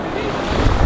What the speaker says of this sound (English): the sheer sort of force of the waves is actually shifting some of these big ice blocks